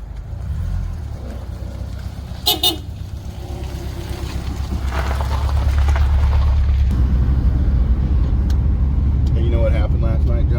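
A car engine idles steadily after an engine installation, a low continuous rumble that swells slightly louder partway through, with a brief sharp knock early on.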